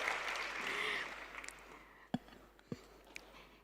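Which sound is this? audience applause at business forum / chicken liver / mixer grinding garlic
audience applause at business forum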